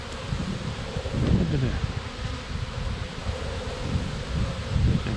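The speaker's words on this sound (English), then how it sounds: "this frame's got some weight to it with all these bees on it" Honeybees cluster on a hive frame in cool weather, their continuous low buzzing close and steady, rising and falling in waves, with a brief voice speaking over it and some wind rustle.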